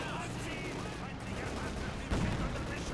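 A Panzerfaust fired into the rear of a Soviet T-34 tank in Company of Heroes 2, a sharp blast landing about two-thirds through over steady rumbling battle noise and background game effects.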